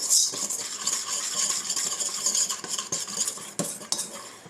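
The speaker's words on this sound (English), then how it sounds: "and I'm going to add in some cocoa. And stir that in." A spoon stirs cocoa into melted butter in a bowl for cupcake batter, with close scraping and clinking strokes against the bowl, continuous and unaccompanied by talk.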